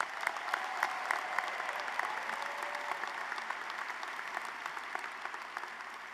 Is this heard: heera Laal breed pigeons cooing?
no